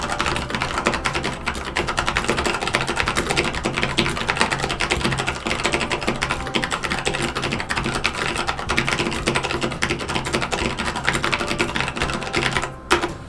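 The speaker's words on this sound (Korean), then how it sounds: "내가 애국가 1절을 쭉 써보고 타이핑 소리를 한번 녹음을 해볼게." Continuous rapid clacking of a lubed mechanical keyboard with brown switches, steady and close, with no talking.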